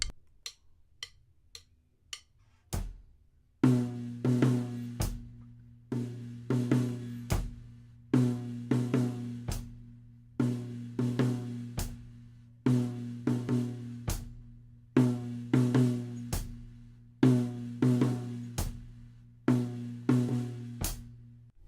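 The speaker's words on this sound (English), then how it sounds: "all of those tom notes, particularly the 8th notes, are completely swung" Drum kit playing a swung fill: a few light sticking ticks, then repeated tom strikes in swung eighth-note groups with resonant low drum tones ringing between hits, steady and close for about twenty seconds.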